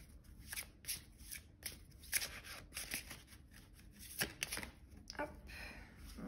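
Tarot cards are shuffled by hand close up, giving quiet, repeated riffling and slapping bursts in an irregular rhythm.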